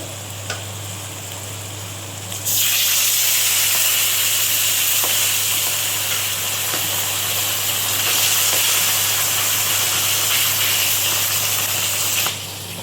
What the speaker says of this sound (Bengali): পাবদা মাছটা দিয়ে দিচ্ছি।